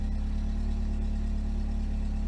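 Cold VW Golf 3 engine running on E85 ethanol idles steadily up close, with a constant low hum and even mechanical whir at unchanging loudness and no talking.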